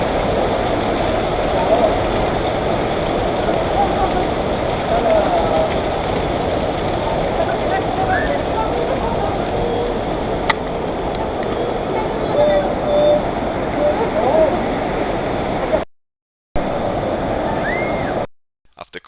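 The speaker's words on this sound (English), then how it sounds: "Another waterfall we're gonna have to walk through." Water from a waterfall pours down steadily as people wade through it, a loud, continuous rushing roar close to the microphone that drops out briefly near the end.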